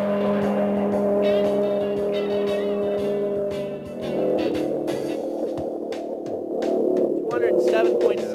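A Dodge Viper sports car runs flat out on a straight, its engine a strong, sustained roar that shifts pitch partway through, with someone talking over it.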